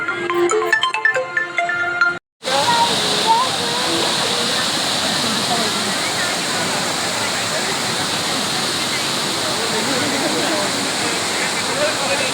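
Water pours over rocks at a waterfall near a Tirupati temple, a loud steady roar of rushing, splashing water that fills the scene after a brief burst of ringtone-like music and a short gap.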